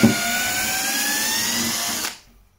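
A Parkside PABS 20-Li D5 cordless drill runs steadily at close range, backing a screw out of a wooden rafter with a whining motor tone that holds for about two seconds, then cuts off abruptly.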